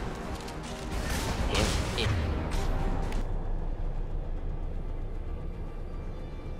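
Dense burst of gunfire from Mass Effect 2 shooting combat, a rapid rattling volley that is loudest early and thins out after a few seconds, with a voice briefly heard.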